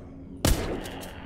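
A single gunshot in the zombie shooter The Walking Zombie 2 fires as one sharp, loud blast and leaves a short rumbling tail that fades over the next second.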